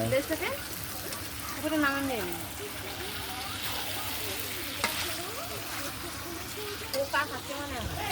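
Chicken sizzles steadily in a pan with spices while being stir-fried, Bengali village style, with occasional stirring scrapes, and people talk over the continuous frying.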